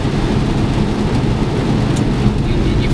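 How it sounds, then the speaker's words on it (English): Loud, steady rain beats down through a thunderstorm with a dense, constant hiss, and low thunder rumbles faintly beneath it. No voices are heard. "We are heading out of this storm."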